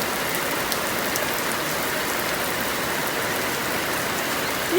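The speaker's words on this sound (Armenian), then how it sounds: "շատ եմ սիրում անձրևի ձայնը։" Outdoor rainfall hisses in a constant, full wash of drops on surfaces, close and steady throughout with no talking.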